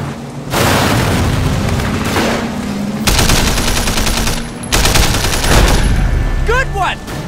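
Heavy automatic gunfire in bursts during a Sleeping Dogs car chase, several loud stretches of rapid shots with booming impacts over a rumbling engine, and a brief voice near the end.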